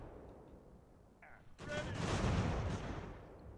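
Artillery fires canister shot in Ultimate General: American Revolution during the battle of Montreal, a sudden loud blast that rolls into a sustained roar of crackling gunfire and rumble after a quieter opening.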